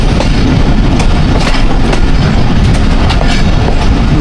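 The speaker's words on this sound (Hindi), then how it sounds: "झमट रेलवे स्टेशन पे 130 डाउन थाल एक्सप्रेस अप्रोच बना रही है।" The 130 Down Thal Express approaches Jhamat railway station, its loud, close rumble of rolling wagons and clattering wheels filling the air continuously, with faint metallic clicks over the steady roar.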